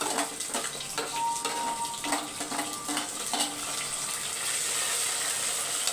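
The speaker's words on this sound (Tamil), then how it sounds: "வெங்காயம் வதங்கட்டும்." Small shallots and peeled garlic sautéing in oil, a steady, moderate sizzle with scattered clinks and scraping from stirring, no voices.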